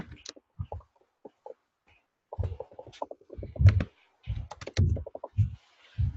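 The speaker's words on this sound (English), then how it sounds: "Actually, we'll just type it out." Fingers type on a computer keyboard in short, irregular bursts of close clicking keystrokes separated by brief pauses.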